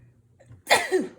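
One sharp, close sneeze bursts out after a brief quiet moment, a sudden explosive breath with a short tail.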